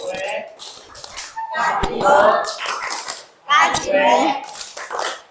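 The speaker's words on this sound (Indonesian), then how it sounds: "Kita beri tepuk apresiasi." Schoolchildren perform a rhythmic appreciation clap, bursts of sharp patterned claps alternating with chanted voices at close range.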